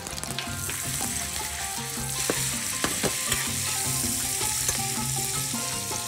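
Meat sizzles and crackles steadily in hot butter and oil in a pan, a constant frying hiss with occasional sharp pops.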